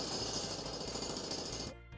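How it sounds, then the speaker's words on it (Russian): A jackhammer breaking up asphalt, hammering in a rapid, continuous loud rattle at close range before cutting off abruptly near the end. "Он очень быстро двигается вверх-вниз и разбивает асфальт."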